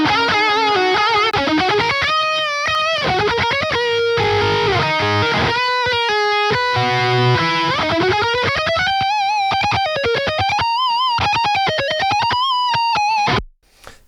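Distorted electric guitar lead played through a Klon overdrive into a Kraken, with sustained bends and rapid picked runs, loud and continuous, ending in an abrupt stop.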